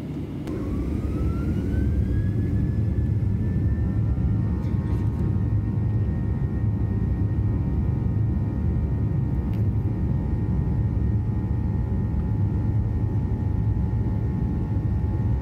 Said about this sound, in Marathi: विमानाने वेग घेतलेला आहे.